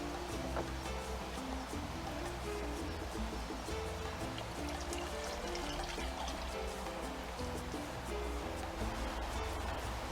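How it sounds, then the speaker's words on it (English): Beef broth is poured into a pot of chili con carne, giving a continuous close splashing, gurgling pour that runs for about ten seconds with no talk. "Now, at this point, we're going to add our beef broth."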